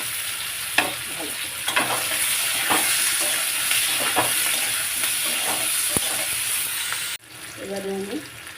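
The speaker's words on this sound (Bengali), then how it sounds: "একটু গোটা জিরে দিলাম, একটু পেঁয়াজ দিলাম, এর মধ্যে আলুও দিয়ে দিলাম। আলুটাও সঙ্গে ভেজে নিলাম ভালো।" Potatoes fry in oil with whole cumin seeds and onion, a loud, constant sizzle broken by clinks and scrapes of a stirring spoon, then the frying drops abruptly to a quieter tail.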